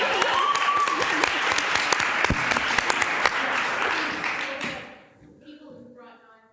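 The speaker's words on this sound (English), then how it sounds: "A round of applause for the board members attending." Audience applause at a public forum on Canadian theatre in Toronto, honouring attending board members: steady clapping from a room of people that fades out after about five seconds.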